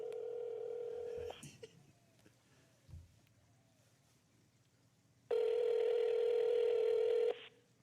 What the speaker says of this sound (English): Just call Dalai Lama. All right. And then put the speaker on